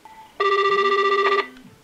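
An OPPO Reno3A smartphone rings for an incoming call, sounding a single loud, bright electronic ringtone burst of about a second before cutting off, with no voices.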